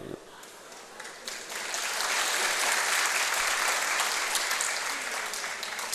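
Audience applause at a literary talk in Myanmar, a dense crowd clapping that swells and holds steady for several seconds after a short lead-in.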